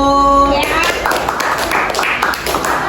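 Fifth-grade students in an elementary classroom at SDN 04 Pulau Punjung clap for group 1, a dense burst of handclaps right after a brief tone, with some talking in the room.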